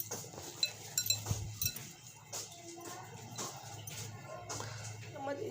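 Potato kebab ingredients being stirred in a bowl at home: soft scraping and light clinks of a utensil against the bowl, fairly faint and irregular, with occasional sharper taps.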